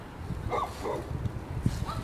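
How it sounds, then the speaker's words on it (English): Dogs give a few faint, short barks and yips at a distance in an outdoor community garden, soft and scattered against a low background hum. "Doggies barking"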